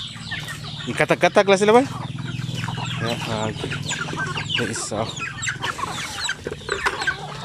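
Chickens cluck and chatter busily at feeding time on a backyard poultry farm, with a burst of loud rhythmic clucks early on and a person speaking briefly amid the birds.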